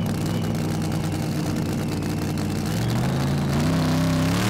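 A pulling tractor from the Netherlands, driven at a tractor pulling competition in Brande, Denmark, roars loud and close with a heavy steady drone, then the pitch climbs sharply as the engine revs up.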